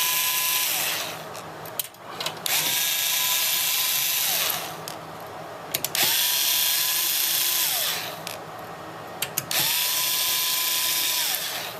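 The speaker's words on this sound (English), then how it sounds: "I'm going to unscrew these 4 screws in the rear" A cordless power screwdriver backing out the four rear screws of a Dell PowerEdge 840 power supply, four separate close high-pitched whirring bursts with short pauses between them, no talk.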